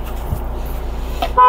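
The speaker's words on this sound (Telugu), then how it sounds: "హారన్ పర్ఫెక్ట్ ఉంది" An original diesel car's horn gives a short toot right at the end, loud and close, after a brief stretch of engine idle.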